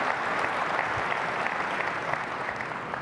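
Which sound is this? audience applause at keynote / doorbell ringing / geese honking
audience applause at keynote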